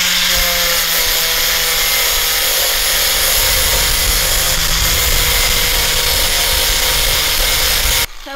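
A loud, continuous high-pitched grinding whine from a power tool in a garage working on a 1JZ engine swap for an R32 Skyline and 300ZX, running steadily for several seconds before cutting off abruptly at the end.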